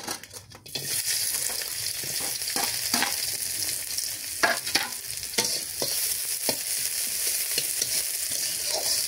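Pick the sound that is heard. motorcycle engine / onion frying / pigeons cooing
onion frying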